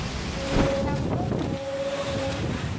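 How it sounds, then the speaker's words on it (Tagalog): Strong typhoon winds from Typhoon Tino lashing El Nido, Palawan, a steady loud roar and buffeting gusts over the microphone with a faint steady tone running through. "Halos matumba ang mga puno habang rinig ang malabuhawing lakas ng hangin dala ng bagyong Tino."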